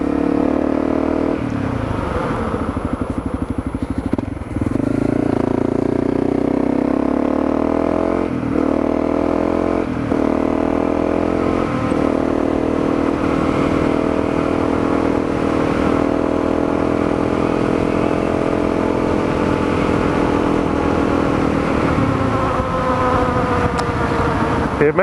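A Honda CRF250L dual sport motorcycle on an autumn ride, its engine droning loud and close throughout with rising and falling pitch through gear changes and wind rush.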